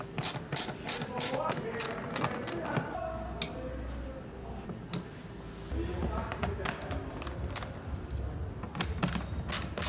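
A ratchet clicks rapidly while loosening 8mm bolts on the microfilter housing of a BMW X1 E84 with an N20 four-cylinder engine, in bursts of close ticking with a pause midway, as someone talks over it.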